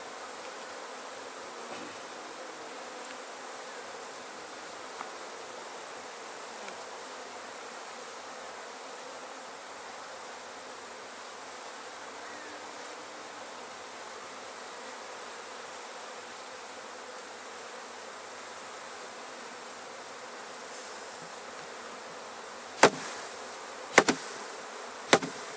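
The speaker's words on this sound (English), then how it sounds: "these don't seem like very mean bees, because these are nurse bees" Honeybee nurse bees buzz on a hive frame, a continuous faint drone from many bees close by, with a few sharp knocks near the end.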